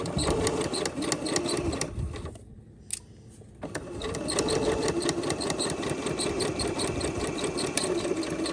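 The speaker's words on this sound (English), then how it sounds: "I'm gonna go forward and back stitch to my mark because I do want to lock this down." A sewing machine runs continuously while back stitching to lock a centered zipper seam, its rapid needle clatter briefly pausing for about a second before resuming at a steady, close whir.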